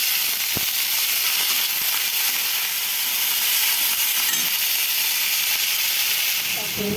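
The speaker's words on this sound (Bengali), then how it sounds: "দেখো চিংড়ি মাছটা ভাজা ভাজা করে নিচ্ছি।" Prawns frying in a pan of hot oil with black cumin seeds produce a dense, steady hiss and sizzle that fills the whole stretch at close range, with faint voices underneath.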